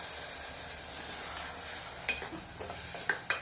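Water hits hot spiced masala for a brinjal and valor bean curry in a pressure cooker, giving a soft, continuous sizzle and hiss with a few sharp splashes and stirring clinks near the end. Quiet, with no talking.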